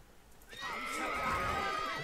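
A horse neighs in the video game The Witcher 3, a single loud whinny that rises and sustains after a quiet start.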